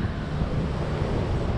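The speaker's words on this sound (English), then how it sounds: "It's hella windy and gloomy" Strong wind buffets the microphone in a constant low roar near the London Eye in London, dense and blustery throughout the short stretch, with no voices.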